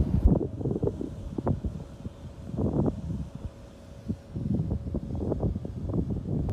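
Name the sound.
wind blowing outdoors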